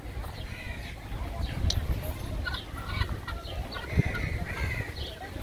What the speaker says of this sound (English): Look at these roosters. Baby roosters.